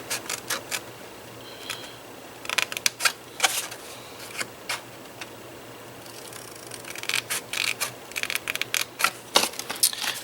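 Scissors cut along score lines in paper, giving soft, close snips and crisp crunching clicks in irregular clusters, with quiet rustling between them and no talking.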